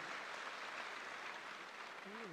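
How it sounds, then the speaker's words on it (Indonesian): An assembly audience claps at the closing of the Golkar party's 11th national congress in a hall, a faint, steady spread of hands heard from a distance, with a brief voice coming in near the end. "Boleh tepuk tangan yang meriah para hadirin yang kami hormati"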